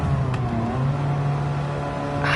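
Droning car engine in Gran Turismo 7, a steady low hum holding one pitch with no revving, running near and alone for the whole stretch.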